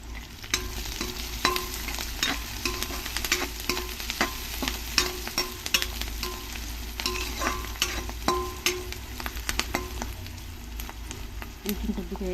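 Green chillies and curry leaves frying in oil for a Rayalaseema-style liver fry, a dense continuous sizzle with frequent crackles and pops and occasional stirring clatter, steady and close throughout.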